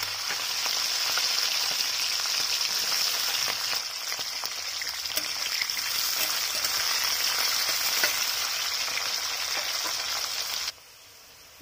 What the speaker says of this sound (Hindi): अभी बीन्स को फ्राई कर लेंगे।